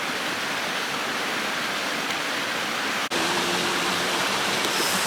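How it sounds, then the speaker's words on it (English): Heavy water rushes down a hillside near an old mine, a steady, loud broadband roar like a waterfall that continues unbroken, with a brief dip partway through. "So much water coming down there"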